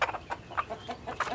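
A white Siruvidai country hen clucking repeatedly, a series of short, close, fairly loud clucks in a steady rhythm without talk.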